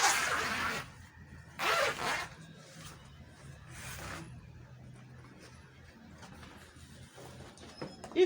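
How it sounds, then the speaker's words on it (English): Zipper pulled open on a cloth lunch bag while sewing, heard as a few short rasping bursts of zip teeth, fairly close, with quieter handling between them. "So now I'm going to separate the zip cloth."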